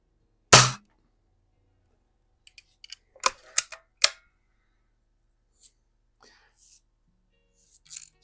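A Red Ryder BB gun firing at bottle cap targets on a cardboard background, one sharp close shot followed by scattered quieter clicks and ticks over several seconds, with no talk.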